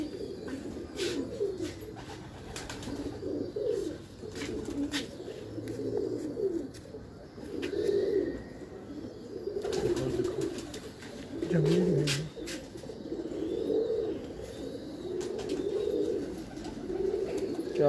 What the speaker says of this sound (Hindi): और रेशम कबूतर है, मुलायम कबूतर,